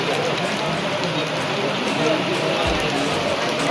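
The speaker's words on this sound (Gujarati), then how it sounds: "વરસાદ ચાલુ થઈ ગયો હે." Rain falls steadily outdoors as a dense, even hiss that lasts the whole stretch, with voices mixed in underneath.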